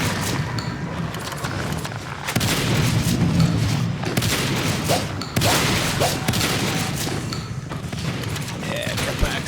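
Dense, continuous gunfire from Natural Selection 2 gameplay at a hive push, a steady roar of shots and impacts with louder bursts, running under a commentator's voice throughout.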